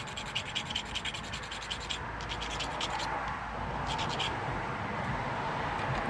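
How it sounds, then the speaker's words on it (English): A metal file rasps a burr off a battery cable end in quick, rhythmic strokes, pausing briefly and then resuming with another short run of close, faint scraping. "Just gonna file it down."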